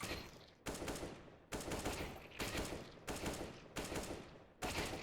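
Gunfire in a competitive shooter video game, six evenly spaced short bursts of automatic fire, each sharp and close, separated by brief pauses.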